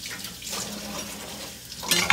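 Cooked food is rinsed under a running kitchen tap, water splashing steadily with a louder gush and clatter near the end.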